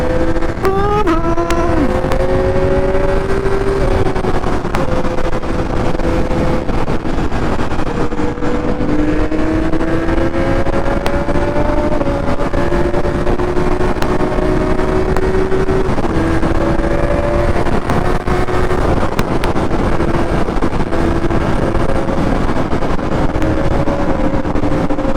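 A superbike's engine revs hard on a group ride toward Yercaud, climbing in pitch and then dropping sharply with each quick shifter upshift. The shifts repeat over and over, loud and close, with no talking.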